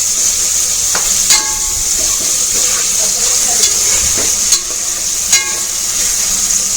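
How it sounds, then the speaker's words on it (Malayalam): Mysore beef curry masala stirred and frying in a pan, a loud, continuous close-up hiss of sizzling with occasional sharp spatula clicks and scrapes breaking through at irregular moments. "കുറച്ച് ഇങ്ങനെ തന്നെ ഇളക്കി കൊടുക്കാം ഒന്ന് ഫ്രൈ ആകണം"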